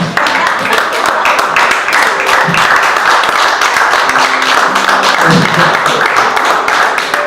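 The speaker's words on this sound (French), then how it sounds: "Qui peut applaudir Isaac?" Congregation applauding during a French-language church sermon, loud sustained clapping filling the hall with some low voices or murmurs mixed underneath.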